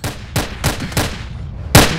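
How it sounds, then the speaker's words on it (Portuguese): Rapid gunfire bursts in a criminal faction shootout in central Rio de Janeiro within the GTA video game, five or so sharp loud shots spaced unevenly over two seconds, close and without talk. "Um tiroteio aqui rolando aqui, ó. De facções criminosas, olha só. Ó o tiroteio rolando."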